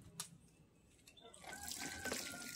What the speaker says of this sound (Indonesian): siraman pertama harus kenyang air seperti ini ya, sampai menggenang